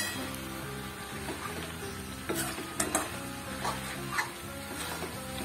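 Spinach curry with green chilli and a spoonful of sugar is stirred in a pan, a low sizzle under repeated scraping and clinking strokes of a spoon against the metal.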